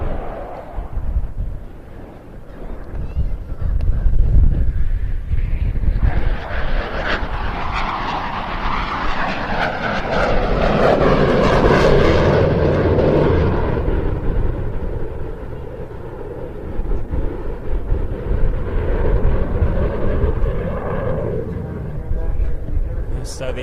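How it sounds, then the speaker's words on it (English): A jet at an air show retracts its landing gear and accelerates hard, giving a loud sustained engine roar that swells and rumbles, steady throughout, with an announcer talking over it. "the aircraft will show the immense amount of power at its disposal by retracting that landing gear and accelerating rapidly"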